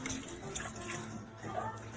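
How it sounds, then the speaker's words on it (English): Water pours slowly into a cooking pot for veg dum biryani, a steady splashing trickle that runs close and fairly loud for the whole moment. "We are going to add some water slowly in a different pot."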